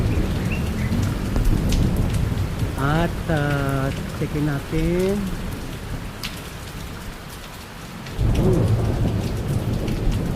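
Steady heavy rain hisses throughout with a deep rumbling thunder undertone, while a person briefly talks over the downpour.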